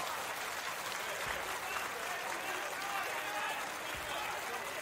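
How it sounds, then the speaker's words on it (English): Crowd at a Japanese professional basketball game between Sunrockers Shibuya and Toyama Grouses cheering and applauding, a steady wash of distant arena noise with a commentator talking over it. "Ishii is going to get a nice cheer from the crowd."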